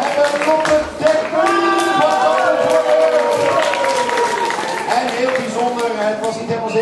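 Festival audience applauding a performer at a literary evening, a dense steady wash of clapping and crowd noise filling the room with tonal music-like streaks through it.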